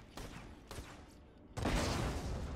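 Gunfire in the video game Borderlands 2: a couple of clipped shots early on, then a louder, sustained burst of fire carrying through to the end, with no talk.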